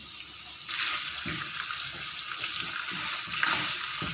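Chicken pieces dropped into a pan of garlic frying in oil, with a steady hiss that swells into a louder sizzle as the meat goes in, close and continuous with no talking.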